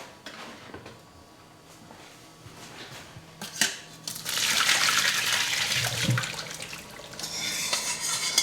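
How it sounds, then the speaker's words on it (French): Boiled potatoes are drained, water pouring loudly in a rushing splash into a sink after a clank of the pot, preceded by quiet kitchen handling and a small clatter, close and with no voices. "On va commencer par égoutter les pommes de terre."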